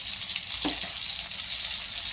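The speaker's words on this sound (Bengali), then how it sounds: "আমার বেগুনটা ভাজা হয়ে গেছে" Eggplant fries in oil, sizzling and crackling steadily in a pan, a constant hissing fry with a faint stir or scrape partway through.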